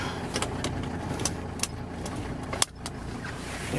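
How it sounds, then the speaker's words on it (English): Seatbelt buckling inside a 1987 Mercedes-Benz 190D 2.5 Turbo, with a few light metallic clicks and a sharp latch snap near the end over a steady low cabin hum, close and moderately quiet. "let me put my seatbelt on"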